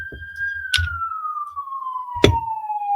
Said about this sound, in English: The bad movie siren is playing in the background.